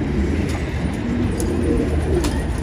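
Pigeons coo on a rooftop during a flock-mixing session, a steady soft low murmur of calls running throughout with no talk over it.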